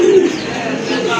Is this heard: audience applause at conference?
no